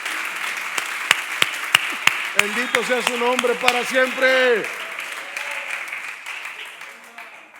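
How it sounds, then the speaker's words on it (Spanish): A church congregation breaks into applause during a Spanish-language sermon, with sharp hand claps building into dense clapping while a man preaches loudly over it. "Dale un fuerte aplauso al Señor"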